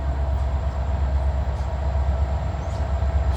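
A train rolls steadily past an old train station in Midland, Ohio, a continuous loud rumble with rail noise and a sustained low drone, heard close throughout with no talking.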